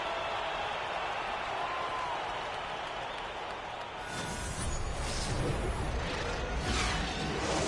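A video game basketball crowd cheers and applauds in a broad, steady roar that swells louder halfway through, sounding like an arena celebrating a win.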